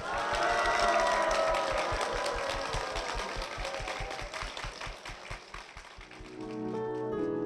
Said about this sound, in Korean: 여러분 힘찬 축복의 박수 부탁드립니다